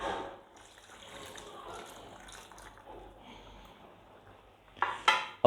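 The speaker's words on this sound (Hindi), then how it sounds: "अब मैं इसमें ऐड कर रहा हूँ अदरक लहसुन का पेस्ट और उसका पानी" Ginger garlic paste and its water being added to a pot of mutton cooking for Landi Kotal namkeen gosht, heard as soft pouring and sloshing liquid, then a few sharp clinks of a spoon or utensil against the metal pot near the end.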